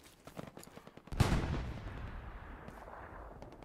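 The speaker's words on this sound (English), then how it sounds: "Oh no, it's the artillery." Artillery fire in the World War II shooter Hell Let Loose: scattered distant gunshots lead into one heavy, booming impact whose rumble rolls on and slowly decays.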